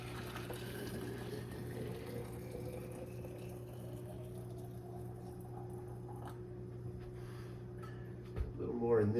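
Water pours steadily from a tap or spout into Nalgene bottles as they are filled to about three-quarters, a continuous close trickling wash with a low hum beneath and a brief louder splash and clatter near the end.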